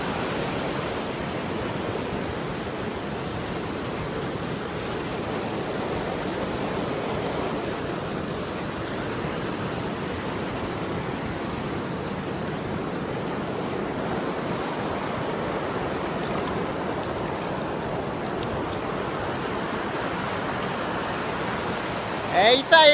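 A river's flowing water at a spot used for washing a Honda Pop 100 motorcycle after a muddy trail ride rushes in a steady, broad roar for over twenty seconds, with a brief knock near the end.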